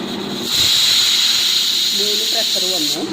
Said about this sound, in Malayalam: പ്രഷർ വന്നു.